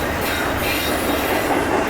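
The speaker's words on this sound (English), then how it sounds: "Yep, I knew it. Mixed freight train," A CSX mixed freight train, M415, rolls past close by with a loud, continuous roar of wheels on rail and faint high squealing, with no speech.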